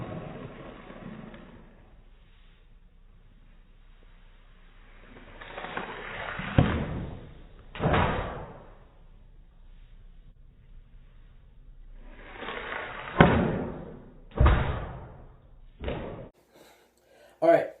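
Ice hockey shots with a very whippy stick, several sharp slapping cracks of stick on puck, close and loud, coming in quick clusters with quiet stretches between, heard alone.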